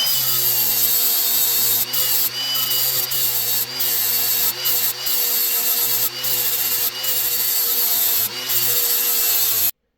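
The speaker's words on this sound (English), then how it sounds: "we're ready to start sharpening with the angle grinder" A harsh, high-pitched angle grinder whine sharpening a mower blade, running continuously, broken by brief pauses as the tool lifts off the metal.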